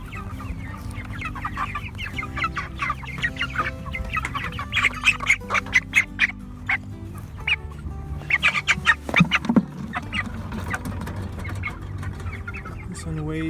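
Cornish Cross meat chickens cluck and squawk in a flock, with repeated bursts of clucking that rise and fall over steady low background noise.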